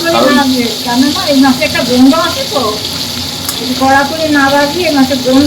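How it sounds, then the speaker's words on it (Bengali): Tangra fish fry in hot oil with a constant close hiss and crackle, while a voice talks over the sizzling throughout. "মাছটা আমি ভেজে নিচ্ছি"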